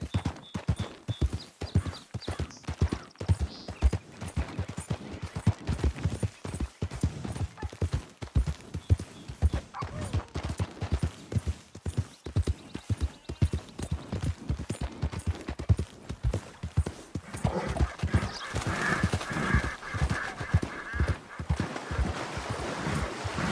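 Horse hooves clip-clopping at a steady trotting rhythm in Red Dead Redemption 2, close and continuous, with an occasional whinny, a brief spoken word, and a faint wind-like wash toward the end.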